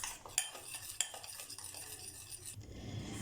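Cocoa powder stirred into chocolate marble cake batter in a bowl, a spoon scraping and tapping the sides with a couple of sharper clinks, close and fairly quiet with no talking.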